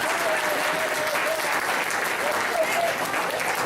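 Loud, sustained audience applause during a chiropractic patient testimonial event in Nassau, Bahamas; dense, steady clapping fills the room throughout, with some crowd voices mixed in.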